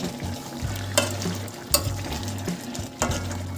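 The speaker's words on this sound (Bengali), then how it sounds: "এবার সবগুলো ভালো করে একটু ওপর নিচ করে দিচ্ছি।" Chicken with methi leaves, black pepper and shahi garam masala being stirred and turned in a pan, a soft sizzle with several sharp scrapes of the spoon against the pan.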